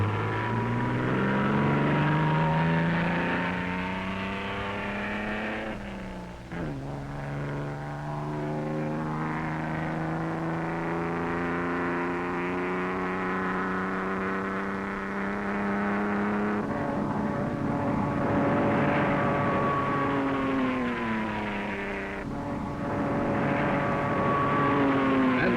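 A record-attempt Austin Healey speeds down the Bonneville salt flats course, its engine a sustained roar that climbs through gear changes with rising pitch and stays loud for the whole run, with no talk.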